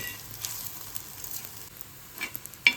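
Chimkura (aluvadi) rolls frying in shallow oil and being turned over, a soft steady sizzle with a few sharper pops and clinks near the end.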